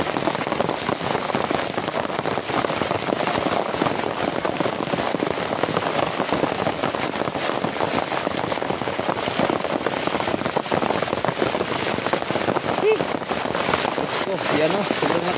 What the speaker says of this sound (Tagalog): Yan o, sobrang lakas naman ng ulan.